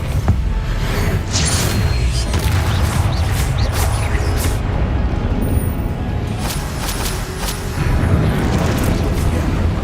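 A spell blast in the video game Hogwarts Legacy: dense, continuous booming and crackling effects in a loud, busy mix with no clear pauses.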